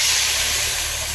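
Water poured onto spices frying in a pan for a village-style pigeon curry sets off a loud, continuous hiss of steam throughout.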